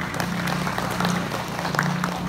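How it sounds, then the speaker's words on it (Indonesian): Audience clapping at an inauguration ceremony for youth organisation officers in Banggai, moderately loud and steady, with a low hum underneath. "Tepuk tangan dulu untuk mereka."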